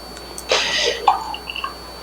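Hot liquid pours into a glass canning jar in a short splashing stream lasting about half a second, followed by a few small drips and light clinks.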